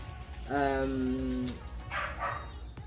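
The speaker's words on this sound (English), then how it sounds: "She's a Labrador Retriever" A Labrador Retriever gives a single drawn-out whining bark at close range, held for about a second. Softer, brief noises follow in a quiet room.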